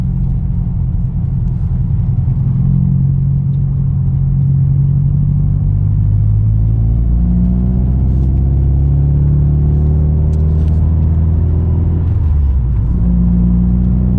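A rebuilt 2019 Subaru STI running on speed density with no MAF, heard from inside while driving: a steady low engine rumble with gentle rises and falls in revs, loud and continuous.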